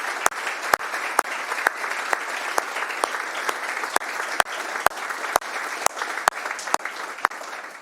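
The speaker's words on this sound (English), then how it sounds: "Let's give another round of applause to our newest officer." A round of applause at a police department promotions ceremony, steady crowd clapping with a few sharp, louder claps standing out at regular moments, sustained throughout.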